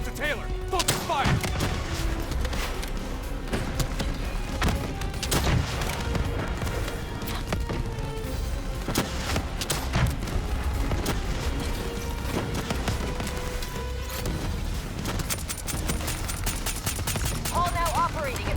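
Heavy gunfire in Call of Duty Black Ops III during a boss fight, with rapid overlapping shots, bursts and explosions filling the whole stretch, while game voices and radio chatter speak over the din.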